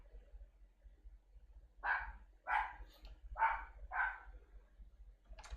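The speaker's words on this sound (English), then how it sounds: "Dogs are barking at something." Dogs bark outside, four distinct barks in a loose rhythm, moderately distant and fairly faint against a quiet indoor background.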